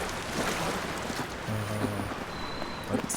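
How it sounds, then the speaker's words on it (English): Pond water in the video game The Legend of Zelda: Tears of the Kingdom, a steady broadband wash of splashing and lapping water, fairly loud and continuous with a few faint game tones. "so let's go into this very nice pond"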